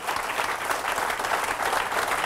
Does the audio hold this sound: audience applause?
yes